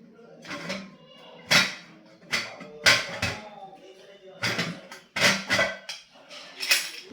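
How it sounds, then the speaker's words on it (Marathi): Metal clatter of a pressure cooker lid being fitted on, with a tiffin box of kharvas milk pudding inside and the whistle removed, heard as several sharp close knocks and scrapes in an irregular series, with no talk. "कुकरचं झाकण लावून"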